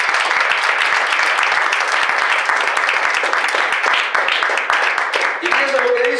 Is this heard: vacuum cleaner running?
no